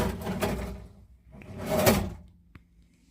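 Two fridge drawer slides roll open and shut in a quiet room, a soft scraping glide each time, followed by a light knock near the end.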